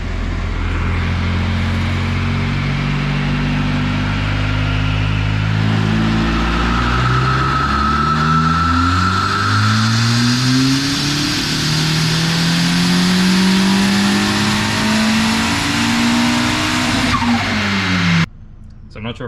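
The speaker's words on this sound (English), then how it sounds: "we're doing the Pullz in 4th gear because it is spinning wheels in the dyno" A turbocharged K-swapped Mazda Miata makes a long dyno pull in fourth gear. Its loud engine note climbs steadily in a drawn-out rising wail, then cuts off abruptly near the end.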